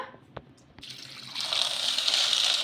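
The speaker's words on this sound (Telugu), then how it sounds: "ఇప్పుడు నీళ్ళు అయితే వేసేసుకుందాం" A couple of faint clicks, then water begins pouring into a bowl, building into a steady, close hiss that continues to the end.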